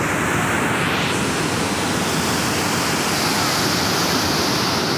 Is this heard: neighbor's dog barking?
no